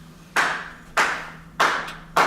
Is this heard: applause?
yes